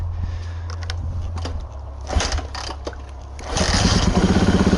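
A Kawasaki KLX110L pit bike engine turns over a few times, then catches and settles into a steady, loud, close idle.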